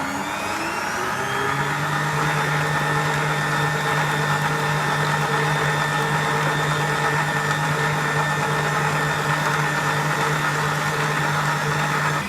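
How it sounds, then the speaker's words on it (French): A stand mixer kneads brioche dough at speed 3, its motor giving a steady, loud electric whine with a rising pitch at the start, then running evenly and unbroken throughout. "on va accélérer la vitesse du batteur"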